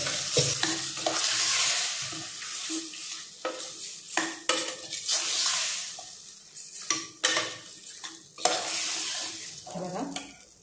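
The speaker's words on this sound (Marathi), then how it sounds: "हे चांगली तेलावर परतून घ्यायची." Prawns and potatoes sizzling and being stir-fried in hot oil for a spicy Malvani-style chutney, with steady frying hiss broken by repeated scraping and clinking of a spatula against the pan, close up.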